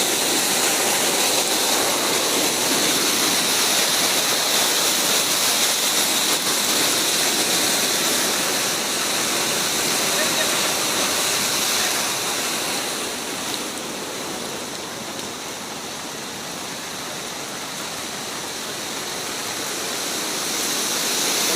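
The flooded Dhatarvadi river near Pipalva village rushes past in a loud, continuous roar of churning water that holds steady throughout, with no voices above it.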